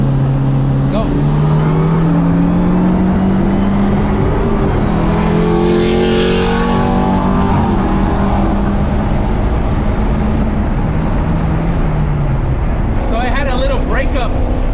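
A B20 turbo engine in a car pulls hard at full throttle through the gears, a loud rising roar with shifts, cabin noise and people talking over it.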